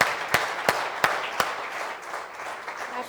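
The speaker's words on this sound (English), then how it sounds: "a huge round of applause for him" Several distinct, sharp hand claps ring out from an audience after a talk, spaced about a third of a second apart, then fade into softer, scattered clapping and room noise.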